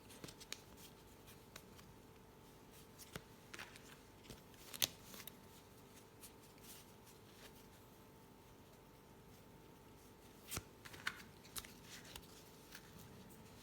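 A tarot deck being shuffled by hand, heard as soft, sparse rustles and flicks of card stock with a few crisper snaps, close up and quiet against a faint steady hum.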